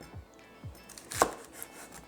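A knife chops celery on a cutting board at a home stove-side counter, giving a few sparse, close, crisp cuts with dull thuds between them and one sharper, louder chop near the middle, with no talking.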